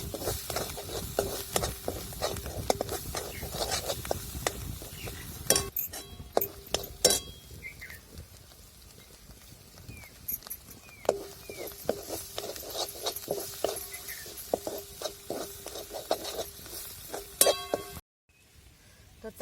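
Spices being stirred and sautéed in a pan for a Maharashtrian mixed vegetable dish, with repeated clinks of a spoon against the pan and a soft sizzle underneath, close and steady before stopping abruptly near the end.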